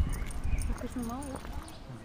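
Horse hooves clip-clop on a street of Eppstein, Germany, near the climb to the castle, a steady walking rhythm at moderate distance, blended with a voice and a wavering whine over street ambience.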